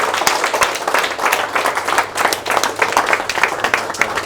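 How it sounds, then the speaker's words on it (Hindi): Seminar audience at a network marketing event rises in a standing ovation, many hands clapping in rapid, uneven bursts that swell and dip, close and fairly loud with no talk over it. "चेयर से खड़े होकर जोरदार तालियों के साथ स्वागत कर सकते हैं"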